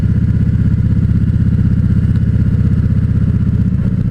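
A motorcycle with large fairings is ridden at night, its engine producing a loud, close, steady low throbbing pulse with a rapid even rhythm throughout, without talk.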